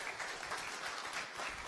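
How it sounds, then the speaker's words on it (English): An audience at an Innovation Cafe talk in Eindhoven applauds a presenter: a short burst of steady, even clapping from a room full of people. "Give a big applause for Ieva"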